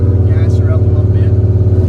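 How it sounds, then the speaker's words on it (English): A HEMI-swapped Dodge Dakota engine rumbles loud and near with a steady, pulsing low throb as the throttle is applied. A voice talks over it. "Gas her up a little bit."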